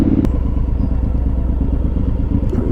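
A Suzuki M109R motorcycle engine running close by, a loud, deep, lumpy V-twin rumble with rhythmic pulsing beats throughout the short burst.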